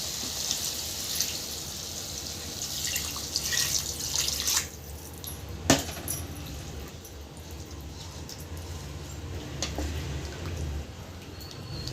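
Water poured from a tomato blender jar into a pan of cauliflower curry, a splashing pour and trickle with drips, a sharp clink midway, fairly close, no talking.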